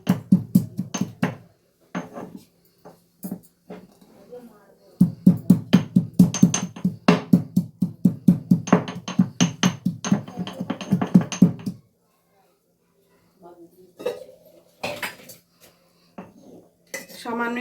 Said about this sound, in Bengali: আদা আর কাঁচা লঙ্কাটা আমি এবার থেতো করে নেব।